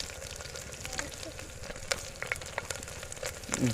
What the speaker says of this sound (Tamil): வெங்காயத்தை நம்ம வந்து சேர்த்துருவோம் பெரிய வெங்காயம் தான் நான் சேர்த்துருக்கேன்